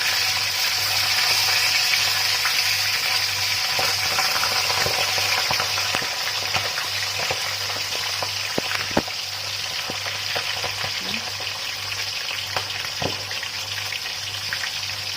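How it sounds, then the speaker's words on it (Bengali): Steady, loud sizzling and crackling of fish frying in hot oil, with occasional pops and a low hum underneath. "মাছটা ভাজা হয়ে যাক"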